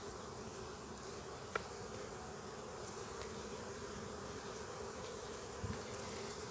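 Honeybees buzzing steadily around an open, fairly calm beehive while frames are being added, a dense continuous hum close by with a couple of faint knocks and no talk.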